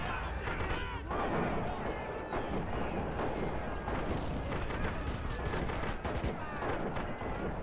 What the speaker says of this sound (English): And another good juicy artillery shot right there.